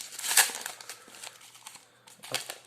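Pokémon-style trading card booster packs being torn open, the foil wrappers crinkling and rustling in close, irregular bursts, loudest near the start and again toward the end.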